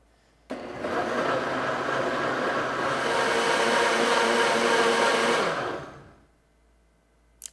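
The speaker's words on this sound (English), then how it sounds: "I love this blender." A kitchen blender whirs steadily for about five seconds, loud and close, blending a cream base for chicken corn chowder, then winds down into quiet.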